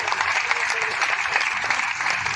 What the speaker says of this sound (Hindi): तालियों के साथ में साथियों।